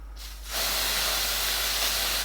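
Dry shampoo sprays onto hair in one continuous, close, loud aerosol hiss lasting about two seconds after a brief quiet lead-in.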